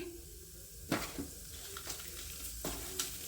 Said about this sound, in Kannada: ಈಗ ಪಲ್ಯಕ್ಕೆ ಒಗ್ಗರಣೆ ಬಾಣಲಿಲೇ ಎಣ್ಣೆ ಇಟ್ಟಿದ್ದೀನಿ ಎಣ್ಣೆ ಕಾದಿದೆ ಕಡಲೆಬೇಳೆ ಹಾಕ್ತೀನಿ